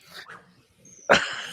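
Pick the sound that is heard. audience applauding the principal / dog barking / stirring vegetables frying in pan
dog barking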